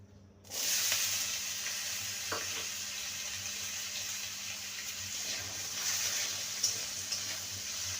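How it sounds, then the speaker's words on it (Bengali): Diced potatoes hit hot mustard oil in a wok, and a steady, fairly quiet sizzle starts abruptly, then runs evenly with small crackles and pops. "মিনিট দুয়েক আলুটাকে লাল করে ভেজে নেব"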